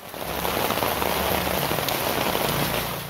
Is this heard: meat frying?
no